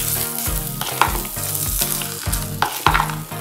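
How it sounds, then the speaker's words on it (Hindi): Hot tempering oil poured over raw mango pieces for pickle, setting off a loud, steady sizzle and crackle that carries through the whole stretch with a few sharper spits. "अब ये गरम तड़का मैं इस केरी में डाल देती हूँ"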